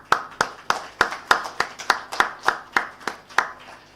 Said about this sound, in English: can I have a big round of applause for them once